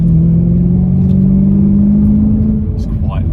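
BMW E92 M3 exhaust droning loudly and steadily with a rising engine note while a person talks over it in a close, noisy cabin.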